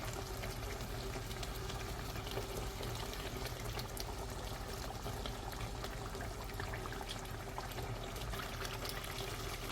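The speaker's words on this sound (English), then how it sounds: "We're gonna go in with the vegetable oil and it's gonna pop some more" Vegetable oil is poured into a pot of browned beef for beef stew, giving a steady, even sizzling and crackling hiss that holds at the same level throughout without pauses or talking.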